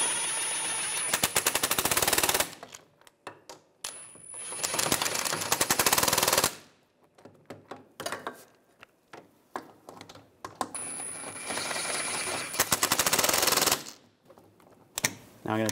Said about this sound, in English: Now I'm going to torque these bolts to 77 foot-pounds.